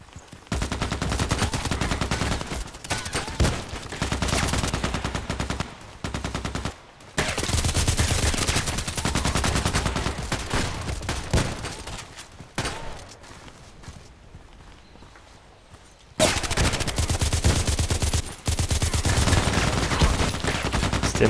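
Sustained automatic gunfire from the online shooter Contract Wars, loud and close, rattling in long dense bursts with short pauses and a quieter stretch before the shooting resumes; no talking.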